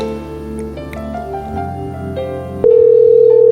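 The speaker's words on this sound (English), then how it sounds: "Should we call Karl?" Phone call being placed, a short run of stepped electronic tones followed by a loud, steady, unbroken tone held to the end.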